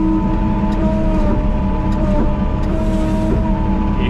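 A Neuson 12002 forestry harvester with a Yanmar 4TNE106 TNS diesel engine runs at steady high revs nearby, a continuous loud drone with a whining tone.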